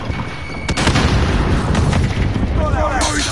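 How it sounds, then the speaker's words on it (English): A grenade detonates in a Call of Duty: Modern Warfare multiplayer match, a loud boom heard amid continuous gunfire and battle noise, with voices talking over the action. "Grenade out."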